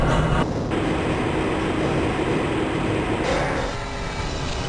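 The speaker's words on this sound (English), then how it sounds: "This train is inbound from the Area 8 topside dormitories to the Central Transit Hub in Area 9." Steady rumbling roar of a rail car gliding through the Black Mesa transit system, continuous and fairly loud with a slight drop in level toward the end.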